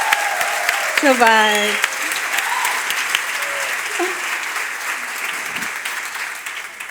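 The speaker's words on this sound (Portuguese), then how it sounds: "Uma enorme salva de palmas para esta organização." Audience at the Juntas 2024 conference applauds the organisers: broad, steady clapping that holds through the whole stretch, with a short sung or called phrase near the start and a few voices talking over the crowd.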